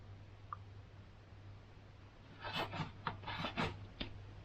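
Insulation being stripped from power cable wires for battery lugs, heard as a quiet cluster of short scraping and rasping strokes with a few small clicks over a low steady hum, no talking.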